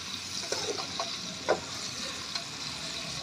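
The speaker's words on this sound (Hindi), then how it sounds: "अब हम इसमें शामिल कर देंगे आधा किलो भिंडी और इसको हम फ्राई कर लेंगे" Half a kilo of okra (bhindi) frying in hot oil in a home kitchen, a steady close sizzle with a few soft stirring knocks and scrapes, no talking.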